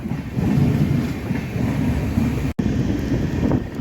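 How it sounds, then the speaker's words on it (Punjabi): Dense, steady rush of rain and wind noise outside a moving train, heard from a general coach, against the train's low rumble, loud and continuous with one brief dropout. "ਬਾਹਰ ਮੀਂਹ ਦਾ ਨਜ਼ਾਰਾ"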